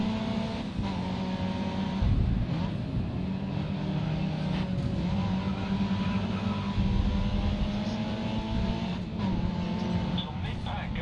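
Race car engines in Grid Autosport, a Ferrari R458 or Lexus LFA, drone with steady high revs and shifting pitch throughout, while someone talks over the continuous engine noise.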